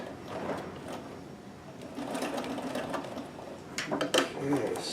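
Necchi BU Nova sewing machine running a double needle stitch, a rapid mechanical chatter of needle strokes with a few louder clacks near the end, close and moderately loud, with a voice speaking over it.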